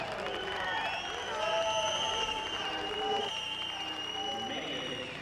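Steady murmur and cheering of a large arena crowd at the 1995 World Wushu Championships in Baltimore, a continuous wash of voices that holds for the whole stretch.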